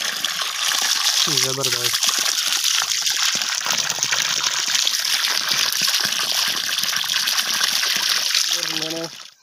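A 12V DC water pump gushes a strong, steady stream of water into a well, loud and continuous throughout, with brief voices speaking over it near the start and end.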